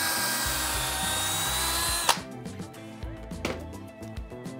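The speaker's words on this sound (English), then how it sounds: "I can follow up and I can just make the screw holes, or make these pilot holes a little bit longer for when the screws go in" A power drill with a long bit bores longer pilot holes in redwood, whining steadily for about two seconds before stopping abruptly, followed by a few softer clicks and knocks nearby.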